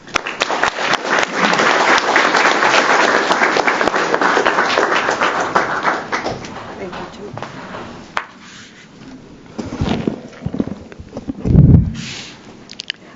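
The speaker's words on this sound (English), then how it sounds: "Please join me in a round of applause to welcome Maria Eugenia." An audience at a credit union's annual meeting applauds, a dense burst of clapping that holds for several seconds, then thins out and fades, leaving scattered handling noises and a few bumps toward the end.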